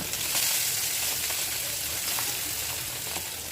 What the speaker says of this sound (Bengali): সরিষার তেল দিয়ে খুব ভালোভাবে গরম করে নিয়েছি। এবার আমি এক এক করে মাছের পিসেসগুলো দিয়ে দিচ্ছি